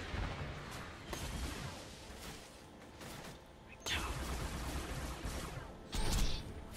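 Player's gun firing in Borderlands 2 during Tiny Tina's Assault on Dragon Keep, dense bursts of shots with heavier blasts near four and six seconds, mixed with game effects and faint talk.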